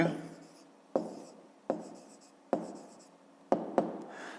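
Hand writing of fifth-grade maths answers, close scratchy pen strokes in short bursts, each starting with a tap on the paper, repeated several times without speech.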